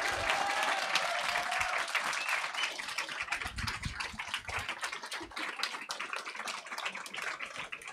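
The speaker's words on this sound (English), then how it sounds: "big round of applause for Patricia to putting up all of this" A round of applause from an audience at an award presentation, dense steady clapping that stays fairly consistent and moderately loud, with a faint voice at the start.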